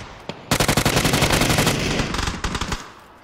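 Rapid automatic gunfire in the PUBG video game, a sustained burst of close, loud shots followed by a shorter second burst, with no talk.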